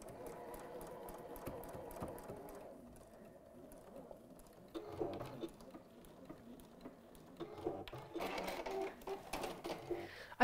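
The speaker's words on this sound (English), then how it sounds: "I'm just going to lock that stitch off." A domestic sewing machine locks off a stitch, its needle chattering in a steady rapid patter that runs throughout and grows slightly louder and busier toward the end.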